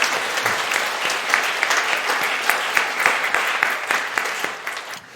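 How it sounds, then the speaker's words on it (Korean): A church congregation applauds the Zion choir during a Sunday service, steady crowd clapping filling the hall for about five seconds before tapering off at the end. "오늘은 특별히 은혜를 끼쳐주신 우리 시온 찬양대에 격려 박수 한 번만 하시면 어떻겠습니까"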